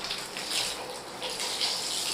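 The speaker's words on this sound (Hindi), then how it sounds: "टंकी का पानी भी भर गया है शायद, हाँ ज़्यादा ही भर गया" Water from an overfilled household water tank spills and gushes steadily, a continuous hissing rush of moderate loudness with no talk.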